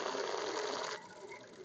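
A sewing machine runs steadily, stitching a seam on a child's festival dress, then stops and leaves a faint hum.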